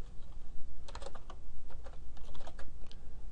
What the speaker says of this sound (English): To run a jar file, you just type java-jar and then the file name.